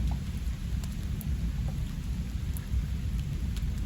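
Heavy rain pours steadily over a village with a deep rumble of thunder rolling underneath, loud and continuous with no voices.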